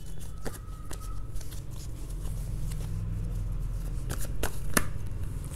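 Tarot cards shuffled by hand, a steady papery riffle with a few sharp slaps as cards drop and fall, close up over a low constant hum.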